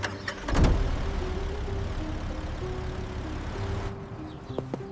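A car engine idles nearby with a steady low hum, while a brief louder thump sounds near the start and faint clicks follow toward the end.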